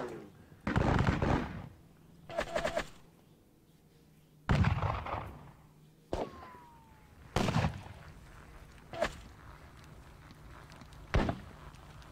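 Musket volleys and artillery fire in the Napoleonic Battles video game at Leipzig: about seven sharp, booming reports come at irregular intervals, each fading into a short rumble, with quiet gaps between.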